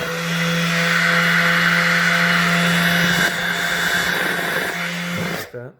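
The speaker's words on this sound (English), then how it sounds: "Here's a little palm sander." A new DeWalt palm sander from a five-tool cordless kit runs with a steady buzzing whine and rough hiss, dipping slightly partway through before cutting off abruptly at the end.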